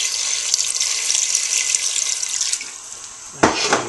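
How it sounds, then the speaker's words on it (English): Water runs steadily from a tap into a pot of beef for Korean beef stew, a continuous bright splashing stream that stops near the end with a brief clunk. "I'm adding some water in here just to cover."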